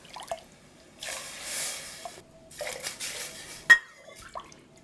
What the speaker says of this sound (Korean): 이때 물을 부어주세요.